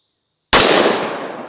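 A Smith & Wesson revolver with an 8 3/8 inch barrel fires a single 600-grain hard-cast Underwood round at a ballistic shield. One sudden, loud, close blast breaks the silence and trails off in a long echoing decay.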